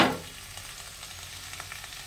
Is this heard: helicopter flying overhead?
no